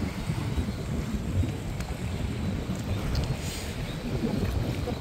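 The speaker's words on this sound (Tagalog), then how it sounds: "maririnig mo yung hampas ng tubig, saka yung simoy ng hangin," Sea waves and wind by the shore at a park on Bermuda, a steady rushing wash of water and blustery wind noise on the microphone, constant and fairly loud, with no talk.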